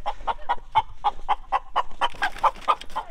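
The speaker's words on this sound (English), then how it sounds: "we noticed that there was a chicken out" Loose farmyard chicken clucking in a rapid, uneven series of about a dozen sharp calls, close and fairly loud, building toward the end with no talking.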